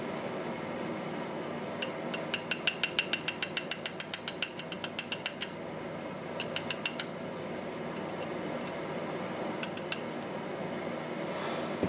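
Metal gears being turned and aligned inside a disassembled Milwaukee M18 mid impact wrench during a Hall sensor repair, quiet rapid ratcheting clicks in several short bursts against a faint background.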